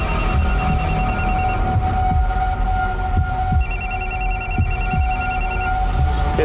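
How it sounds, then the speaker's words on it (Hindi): A phone rings in repeated electronic bursts, pauses briefly, then rings again over a steady background hum. No voices are heard. "ये फोन किसका बज रहा है?"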